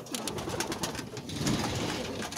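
Several checker racing pigeons coo close by in throaty rolling calls that overlap one another, with no voices over them.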